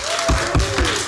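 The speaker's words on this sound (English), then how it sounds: "Folks, please no applause." Short burst of applause in a city council chamber, a few scattered claps from the public heard close and fairly loud over a room hum, lasting about a second.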